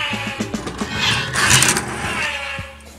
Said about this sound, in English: And race car sounds.